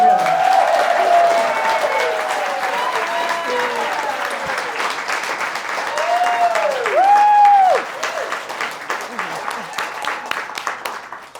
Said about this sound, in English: Can we have an applaud for that?